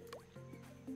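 Watering crops with a watering can in the farming game Roots of Pacha: a short liquid splash and drip with gurgling tones over a steady game music bed, fairly close and moderately loud.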